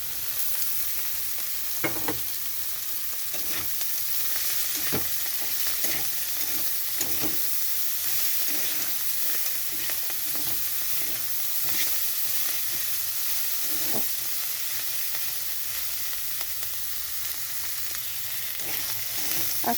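Potatoes and teuri greens fry in a pan with a steady, close sizzle and hiss, while a spatula stirs and scrapes against the pan at irregular intervals.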